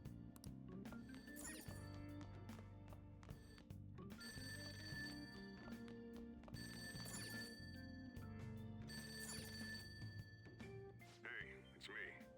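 A landline telephone in Persona 5 rings in repeated bursts of bright trilling bells, spaced by short gaps, with a voice talking faintly over it.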